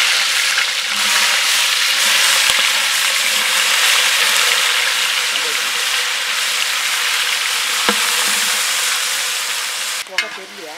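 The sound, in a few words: chopped onions frying in hot oil for prawn gravy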